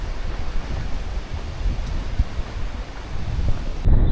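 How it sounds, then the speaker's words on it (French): Strong wind roars over the Brittany coast at a campsite on the point, a steady low rumbling buffet across the microphone with gusty surges, loud and unbroken, no voices. "Il y a grave du vent"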